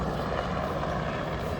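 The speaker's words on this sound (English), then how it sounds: "That's the helicopter that just took off from the airport." Helicopter lifting off from Ogle airport, heard as a steady, fairly distant broadband rotor and engine roar that holds level throughout without pause.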